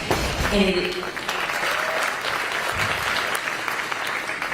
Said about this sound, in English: the clapping goes to the state Senate